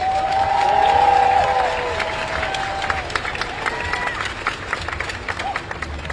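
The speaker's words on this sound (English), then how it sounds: "I want to give them a round of applause behind the scenes." Outdoor crowd applause and cheering at a championship parade for a women's professional soccer team, a broad steady wash of clapping with crowd noise and some voices, and a brief whistle-like tone early on.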